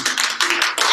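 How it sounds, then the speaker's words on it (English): Applause for grad student panelists, a few close, crisp hand claps in quick bursts, loud and brief, from what sounds like a small group. "So let's give them a round of applause."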